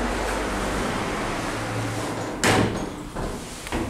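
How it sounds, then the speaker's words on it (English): Wide doors of a short hydraulic lift in a Bexleyheath shopping centre slide along, a steady rumbling hiss that ends in a brief bump as they close, with no talk. "Very wide doors, but not a very long lift."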